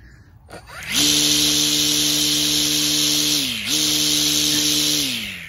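A Husqvarna pro battery strimmer starts up with a rising whine and then runs as a steady, loud, high-pitched electric motor drone, with a brief dip midway before holding again.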